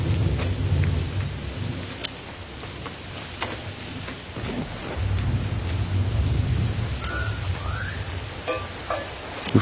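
A hailstorm with thunder and heavy rain, set during the 1883 Krakatau volcanic eruption, gives steady dense pattering with low rolling thunder rumbles that swell and fade throughout, and a few faint high chirps on top.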